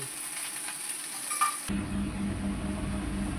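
Mustard greens (shak) fry in a covered home kitchen pan, a steady broadband sizzle that drops and turns lower and rougher partway through, with a faint clink, close and continuous.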